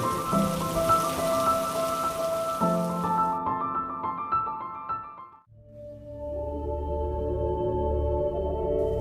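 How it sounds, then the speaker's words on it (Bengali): Heavy rain pours down steadily in a hissing wash, with musical tones sounding alongside; midway the rain drops away and the music carries on alone. "ঝমঝম করে বৃষ্টি পড়ে, ওর সমস্ত গা যেন শুনতে পায় সেই বৃষ্টির শব্দ"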